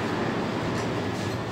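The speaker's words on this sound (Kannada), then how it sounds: "ನೋಡಿ, ಇದು ಡೆಲ್ಲಿ ಮೆಟ್ರೋ." Delhi Metro train on the airport line, producing a loud, steady rumble and rushing noise throughout, heard close without any talking.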